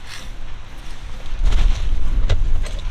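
Wind gusts at a seaside campsite in Korea on an evening, heard as low, rumbling buffets against the microphone that strengthen midway, with faint higher rustles and no talk.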